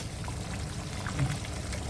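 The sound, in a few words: pouring hot water into prawn curry masala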